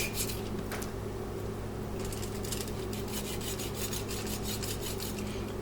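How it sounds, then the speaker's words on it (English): A knife trims fat off a raw beef brisket with soft rasping, rubbing strokes, quicker repeated scrapes coming toward the end over a low steady hum, close and fairly quiet. "I'm just going to continue trimming as much fat"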